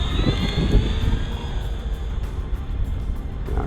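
An RC airplane running on 6S 5200mAh 100C lithium polymer batteries takes off in a breezy wind, its motor and propeller giving a loud steady drone with a rising whine, heard close and without talking.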